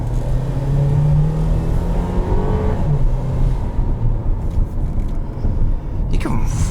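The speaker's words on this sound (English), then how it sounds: "You can really hear the turbo." Turbocharged engine of a 2011 Acura RDX revs inside the cabin, a steady rumbling drone with a rising whine that then eases off. A steady road rumble continues beneath it.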